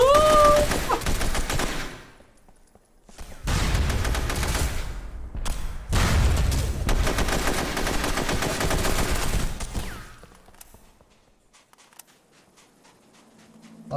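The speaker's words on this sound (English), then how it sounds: "A lot of AK action!" AK rifle fire in the video game SOCOM II comes as long, loud, dense automatic bursts, broken by short pauses, and fades to quieter scattered noise near the end.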